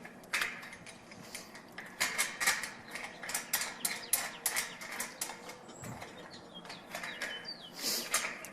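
A screw is driven through the metal frame of a security screen door, with a steady run of ratcheting, grinding clicks in short, repeated bursts, close by and fairly quiet, with no talking.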